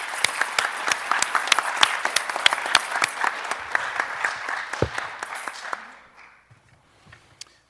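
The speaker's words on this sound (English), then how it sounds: "So please give everybody a round of applause." An audience at a school district board meeting gives a round of applause, crisp individual claps from a modest crowd that carry on steadily and then thin out to scattered claps and quiet.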